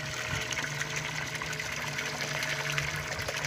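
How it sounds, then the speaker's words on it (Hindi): Water gushing steadily from a tubewell outlet at low flow, a continuous close splashing rush with a faint pump hum underneath and no talk. "बिल्कुल ही कम हो गया है पानी ट्यूबवेल का"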